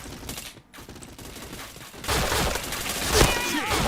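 Rapid gunfire from a shooter video game, a dense continuous barrage of shots that grows louder after the midpoint, heard through game audio with a faint voice now and then.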